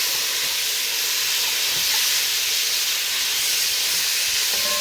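Onion, carrot and minced garlic sauté in a pan, producing a loud, steady, broadband sizzling hiss that runs unbroken from start to finish with no voices.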